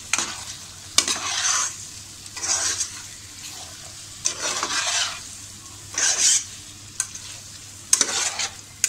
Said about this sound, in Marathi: आपण परतून घेऊया त्याला.